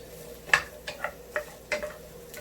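Vegetables frying in a pan for a beet and rice noodle Thai bowl, a low steady sizzle broken by several soft clinks and stirring scrapes at uneven intervals, close and fairly quiet with no talking.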